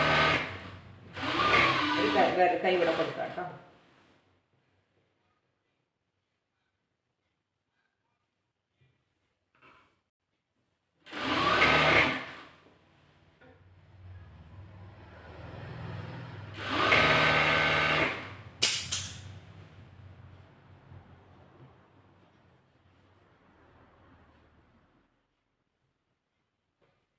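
A sewing machine stitches a slit in fabric in several short whirring bursts separated by pauses, loud and close. Someone speaks briefly between the runs of stitching.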